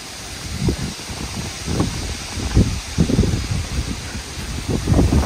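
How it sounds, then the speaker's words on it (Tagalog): Wind gusts outdoors on a chilly, drizzly day while searching for mushrooms, with low rumbling buffets against the microphone and a steady rustling hiss, rising and falling irregularly with no talking. "Medyo mahangin po ngayon"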